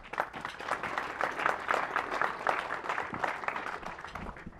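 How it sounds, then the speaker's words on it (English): A ceremony audience marking a recreation center's 25th anniversary in Saline claps in a warm, sustained round of applause that holds steady, then tapers off toward the end. "Please give her a warm round of applause."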